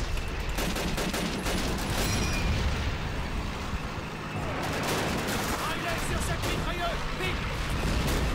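Heavy machine gun fire in the WWII shooter Call of Duty at Bastogne, a dense barrage of rapid shots and booms running throughout, with voices shouting over the battle.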